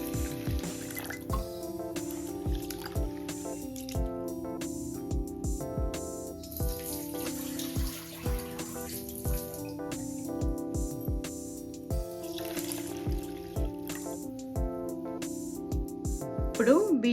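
Soaked rice and black gram are rinsed by hand in water, with repeated splashing, dripping and sloshing in a vessel, close and moderately quiet.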